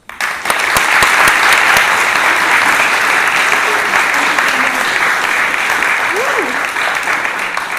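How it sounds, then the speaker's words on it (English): Loud, sustained audience applause in an art gallery talk setting, dense clapping filling the whole stretch after an abrupt start, with a brief vocal sound partway through. "Please join me in welcoming Grace"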